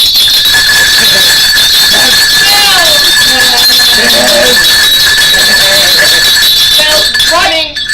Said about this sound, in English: when comes the sound of bells